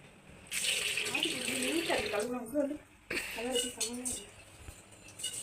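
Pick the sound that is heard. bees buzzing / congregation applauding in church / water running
water running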